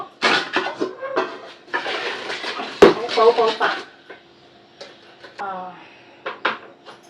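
Metal pot clanks and scrapes close by, with a sharp clatter midway, while a person talks over most of it.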